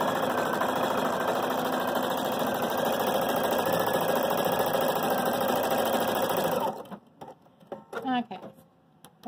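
An embroidery machine stitching an applique runs with a fast, steady mechanical chatter of needle strokes for several seconds, then stops, leaving irregular handling noises and a voice speaking.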